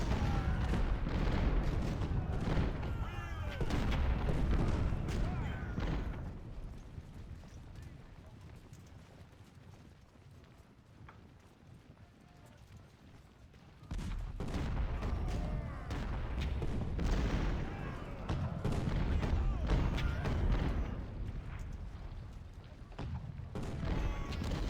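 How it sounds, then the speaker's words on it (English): Artillery fire in a Civil War strategy game, battle of 2nd Winchester: distant booms and crackling volleys rolling under a busy battlefield din, easing off midway and then swelling again. "So far they've been content to hit me with artillery."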